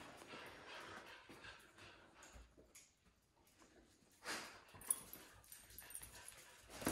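A dog whines intermittently at a meet-and-greet with other dogs, soft close whimpers with faint panting and shuffling between them, alone without talk.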